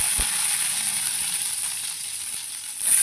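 Mustard seeds and urad dal crackle and sizzle in hot oil for a potato fry, a steady close hiss with scattered small pops and a louder burst near the end.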